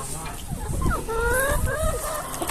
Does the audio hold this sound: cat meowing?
no